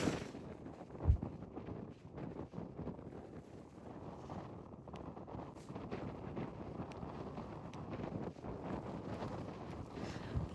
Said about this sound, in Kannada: ಗಾಳಿ ಅಂತ ಸಕ್ಕತ್ತಾಗಿ ಬರ್ತಾ ಇದೆ.